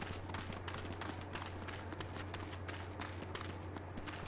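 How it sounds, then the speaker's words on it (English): Dog galloping in the video game Final Fantasy XIV, a quick, steady run of heavy clip-clop footfalls, faint and even throughout with no talk. "This dog sounds like a small elephant chasing me."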